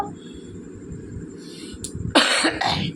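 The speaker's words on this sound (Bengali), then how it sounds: "আর প্রচণ্ড কাশি হয়েছে কেন হচ্ছে বুঝতে পারছি না" A person with a bad cough lets out a burst of harsh, close coughs near the end, two or three loud hacks after a quiet stretch of room noise.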